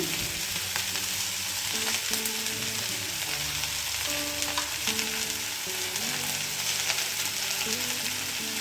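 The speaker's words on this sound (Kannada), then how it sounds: "ಸ್ವಲ್ಪ ಫ್ರೈ ಮಾಡ್ಕೊಳ್ಳೋಣ ಸ್ವಲ್ಪ ಅರಿಶಿನ ಪುಡಿ ಹಾಕೊಳ್ಳೋಣ" Ivy gourd frying in a pan with turmeric powder for a palya gives a steady, even sizzle that runs throughout, partly masked by continuous background music with no speech.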